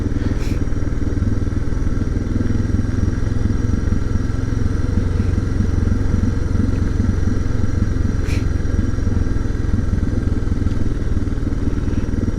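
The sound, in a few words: Suzuki DR650 engine chugging while engine braking downhill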